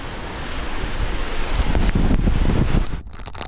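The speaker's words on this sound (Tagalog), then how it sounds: "Nag-iba na yung direksyon ng hangin." Strong super typhoon wind roars steadily and loudly against the microphone, buffeting in gusts and rustling debris, then drops off abruptly near the end.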